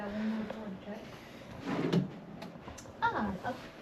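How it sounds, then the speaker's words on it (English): In a hotel room, a drawer slides open and shut with a couple of wooden knocks and scrapes while a person talks over it. "maybe we need to go check every drawer now"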